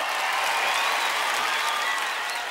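Steady, dense applause from an audience, a continuous wash of clapping that holds at the same level throughout.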